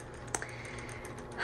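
A 1970s Smith Corona Electra 210 electric typewriter is heard up close in a short burst, a few sharp key strikes over a steady motor hum.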